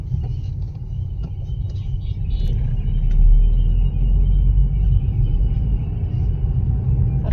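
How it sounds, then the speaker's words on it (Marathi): A Bharat Gas cylinder truck passes on a busy road, heard as a steady, heavy low engine rumble that swells slightly mid-way amid general traffic noise. "इथे गॅसची गाडी चालली आहे, भारत गॅसचा"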